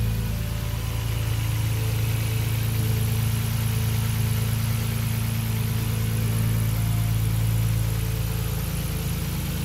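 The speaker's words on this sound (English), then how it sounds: "Now I can actually hear the engine for real, and it sounds so nice." Nissan 300ZX fitted with an RB26 engine and a new exhaust, idling steadily with a deep, even low rumble and a faint mechanical hum, loud and continuous with no voices.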